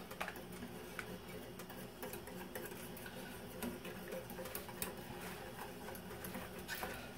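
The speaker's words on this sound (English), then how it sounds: "Now I'm going to whisk in my sauce." A whisk ticks and scrapes quickly against a pan as milk and beef bouillon are whisked into a sauce, a busy rhythmic clatter at low volume over a steady background hiss.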